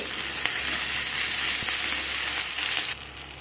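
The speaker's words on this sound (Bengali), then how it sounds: "সব কিছুকে আবারও নাড়াচাড়া করে ভালো করে মিশিয়ে ভাজা করে নেব" Ginger paste sizzles and fries in a hot pan as it is stirred into the other ingredients, with a loud, steady crackling hiss, occasional scraping knocks of the spoon, and a slight drop in intensity near the end.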